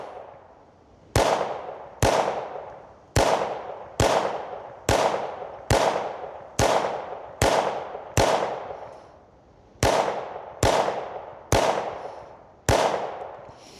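Fourteen sharp .22LR gunshots from a Taurus firearm crack out at a steady, evenly spaced pace with one short pause, each report loud and close with a brief decaying tail.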